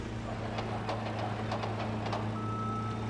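Truck reversing beeps from the video game Docked repeat at a steady rhythm, fairly faint over a low engine hum.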